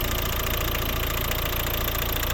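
A 2012 Volvo's 1.6 D2 turbodiesel four-cylinder idles with a constant, knocking diesel rattle, recorded close and unbroken, with no talk over it.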